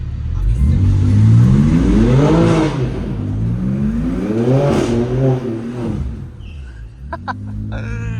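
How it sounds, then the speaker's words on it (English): A stock 2024 BMW G82 M4 Competition RWD revving hard during a burnout, with two loud rising and falling engine surges close by, followed by a fading idle and faint clatter. "Should I hit a little burnout?"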